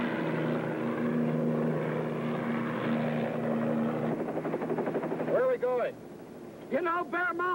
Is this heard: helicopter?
yes